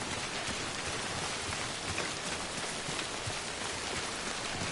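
Rain falling in the video game Death Stranding, a steady, soft hiss of drops on surfaces continuing evenly throughout, with no voices.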